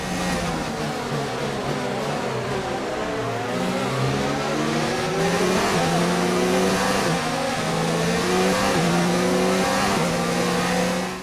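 A Ferrari Formula 1 car's engine in a racing video game at the Bahrain Grand Prix, revving at a continuous high pitch with rising and falling gear changes, loud and sustained, with other cars nearby.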